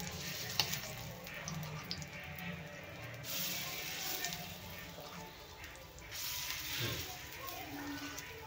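Rava appe batter is poured into an oiled appe pan and sizzles quietly and steadily up close, with a soft voice speaking in the background.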